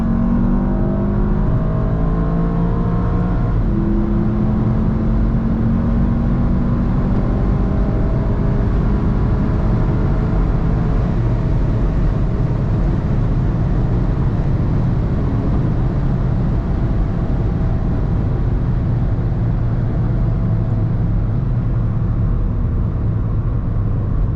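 A Volkswagen MK7 GTI fitted with an APR DTR6054 turbo accelerates hard in third gear from around 60 mph, the engine note climbing steadily and loudly with a whooshing turbo whir over a continuous road roar.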